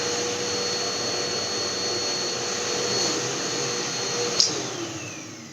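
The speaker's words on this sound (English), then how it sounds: "it was our vacuum cleaner" A vacuum cleaner drones steadily and loudly, a constant motor whine that holds throughout, with a brief sharper clatter near the end.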